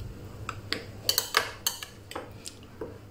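A spoon mixes chili flakes and coarse black pepper into a chimichurri sauce in a bowl. It makes light, scattered clinks and taps near and fairly soft, with no talking.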